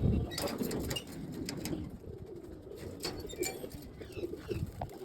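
Pigeons coo on a rooftop loft, soft repeated low throaty calls overlapping in a continuous close chorus with occasional wing flutters and chirps, no talking.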